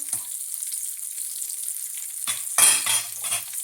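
Keto onion rings fry in a pan with a steady, close hiss, and a louder burst of crackling and spattering toward the end as another ring goes into the oil.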